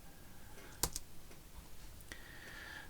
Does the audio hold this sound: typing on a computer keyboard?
yes